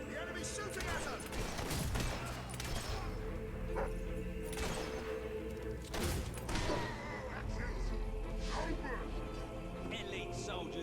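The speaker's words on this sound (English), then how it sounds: "The enemy's shooting at us!" Enemy soldiers shooting during a Fable 3 battle: repeated sharp gunshots and thuds scattered over steady background game noise, with some voices talking amid the firing.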